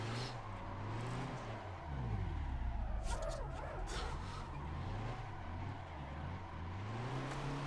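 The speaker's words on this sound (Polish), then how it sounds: "Teraz driftujemy, teraz jest kontrolowany drift muszę go dohamować trochę" Scania R1000 truck drifting under full throttle, its engine droning loud and close with rising and falling revs as tires scrub and squeal through the slide, with no talk.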